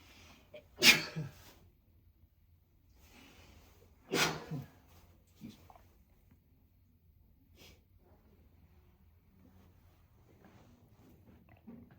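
Two sharp, loud sneezes a few seconds apart, followed by faint sniffs and quiet background murmurs in an otherwise quiet room.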